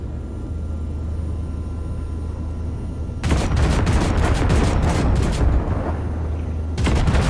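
Heavy weapons on the Basilisk panzer hover tank in Cyberpunk 2077 blast wrecks in a loud, rapid fusillade of gunfire, starting after a low engine hum and stopping briefly before a final burst resumes.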